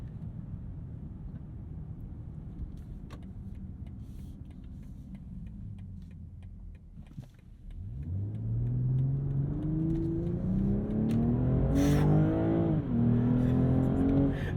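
A 2022 BMW M240i engine idles with a low rumble, then revs up hard and accelerates away, its pitch rising through the gears.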